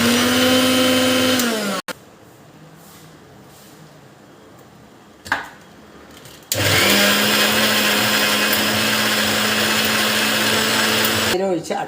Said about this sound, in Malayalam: ഇത് ഈ നാളികേരം അരച്ച് നോക്കട്ടെ കേട്ടോ